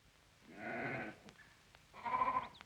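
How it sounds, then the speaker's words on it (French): Two bursts of bleating from a passing flock of sheep, close by, separated by a short pause, with no talk. "Écoutez, les moutons vont passer."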